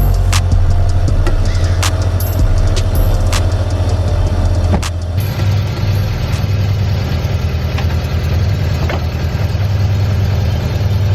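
A 1999 Hyundai Tiburon FX engine idles steadily with a newly installed alternator, a continuous low rumble with a slight change in tone partway through and a few faint clicks, no talking.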